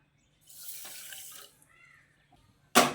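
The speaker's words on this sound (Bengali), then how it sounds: "আর ওই বাটিরই মাপে দিয়ে দিচ্ছি হাফ বাটি মতো জল" Water pours from a bowl into a pan of sugar for semolina halwa, a short splashing stream lasting about a second, followed by a sharp clatter at the end.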